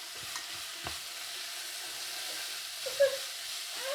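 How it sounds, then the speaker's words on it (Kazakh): Sweet peppers fry softly in a pot with oil, a faint gentle sizzle broken by a few scraping stirs of a utensil. "Және тәтті бұрышымызды да салып қуырамыз."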